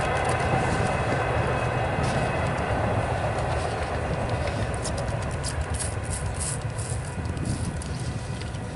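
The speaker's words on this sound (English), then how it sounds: "Hopefully you can hear me over this train." A train rolls past near an outdoor trapping site, a loud, steady rumble with rail clatter and a higher metallic hiss that holds for the whole stretch, no talking.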